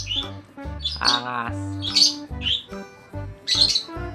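A pet bird squawks repeatedly while being fitted with a bird diaper, sharp loud cries coming in bursts between a woman's speech, with a few softer chirps mixed in.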